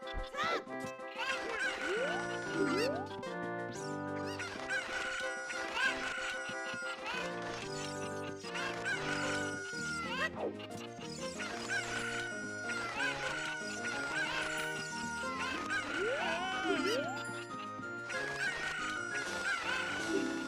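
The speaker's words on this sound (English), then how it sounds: "Fuck you and your chickens." Chickens from the Ocarina of Time video game cluck and squawk in quick, repeated bursts, with rising crow-like calls over a busy, layered game soundtrack; no talking.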